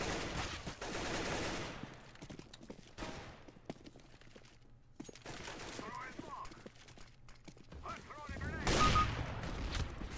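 Gunfire from the video game CS:GO, with bursts of rapid shots and fusillades over the game's background sound while someone talks over much of it.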